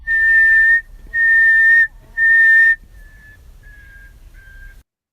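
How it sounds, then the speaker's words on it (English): A person whistles three loud, steady notes at the same pitch, then a nightingale answers with three fainter, shorter whistles at nearly the same pitch. "the nightingale was responding with a whistle, and it was also responding with almost the same pitch"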